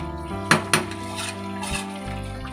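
A utensil scrapes and clinks against a pot while cooked mushroom biryani rice is stirred, a few sharp knocks over a soft, steady background, close by and with no talk.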